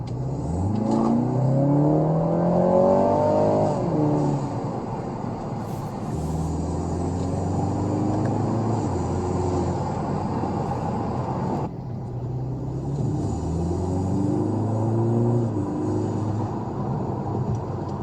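A BMW G20 330i with a tuned transmission accelerates hard through several gears, its engine and exhaust rising in pitch with each pull and dropping sharply at each upshift, loud and close with no talk.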